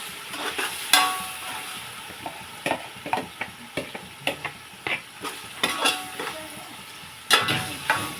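Green chillies fry in a hot pan with a steady low sizzle, punctuated by scattered scraping and clinking of a spoon stirring against the metal, close and without speech.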